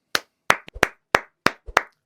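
Sparse, distinct hand claps, about eight sharp slaps in an uneven rhythm, close and loud with no voices, as a small audience applauds at a Vasco football club business talk.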